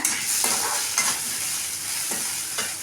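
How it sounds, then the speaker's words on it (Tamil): Onions sautéing in a pan for mango kuzhambu make a constant dense sizzle close by, broken by a few spatula stirs against the pan. "இப்போ பாருங்கள், வெங்காயம் நல்லா வணங்கிருச்சுங்க."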